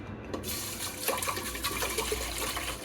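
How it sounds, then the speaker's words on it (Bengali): Two litres of milk poured into a cooking pot for rice-based shahi firni, a steady close liquid gush that starts after a brief quiet moment and continues alone to the end. "আমি সাথে দুই লিটার দুধ দিয়ে দিচ্ছি"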